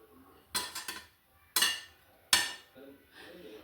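Burnt tandoori chicken shifted onto a plate with cutlery, producing a few sharp close clinks and scrapes against the dish separated by quiet gaps, with a voice speaking faintly in between.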